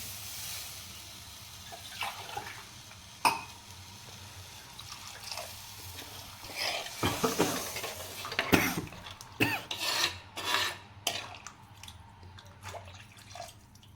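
Water poured into hot coriander and chilli powder in a pan while cooking tuna (choora) fish curry, giving a trickling, splashing pour with scattered clinks of utensils, building to louder bursts of sizzle and splash toward the end, with no talking.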